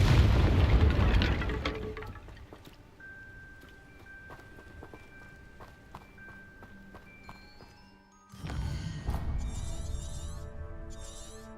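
A fire spell cast in the Hogwarts Legacy video game, a loud whooshing burst of flame at the start fading into quieter game ambience with soft chimes, then another heavy rumbling burst near the end.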